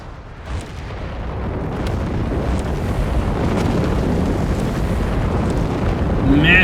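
A rocket barrage in Company of Heroes 3 sends high explosive rockets down from above, heard as a dense, continuous roar of blasts that builds steadily and stays loud throughout.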